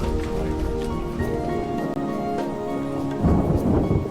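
Rolling thunder rumbles with a steady wash of rain, continuous and fairly loud across the whole stretch, swelling into a heavier, closer burst near the end as a thunder-and-rain storm effect.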